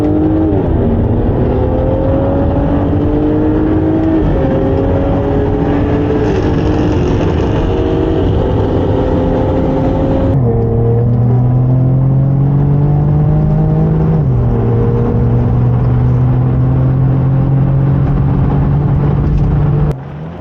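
Drag race between a 2023 Jaguar F-Type R Dynamic, an Audi S4 and an Infiniti Q60 RS, loud sustained engine roar rising in pitch through several gear changes, each shift marked by a drop and climb again, close and continuous.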